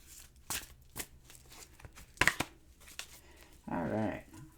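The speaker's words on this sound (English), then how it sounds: "I'm going to shuffle and deal you an angel or a card." Oracle cards being shuffled by hand in a quiet room, giving a few soft riffling and flicking bursts spread across the moment, with a louder rustling flurry near the end.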